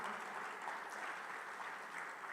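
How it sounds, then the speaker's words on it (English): An audience at an inaugural silver jubilee ceremony applauds, a steady wash of many hands clapping together, sustained and fairly distant throughout. "Rohit, you can get up and receive the applause,"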